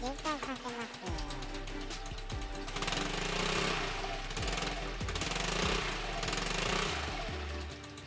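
A Yamaha Majesty 125 scooter engine, running with a water hose feeding its radiator, revs in repeated rising bursts over a steady buzzing idle, close and loud, with a voice briefly heard.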